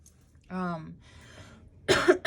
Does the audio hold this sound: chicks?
no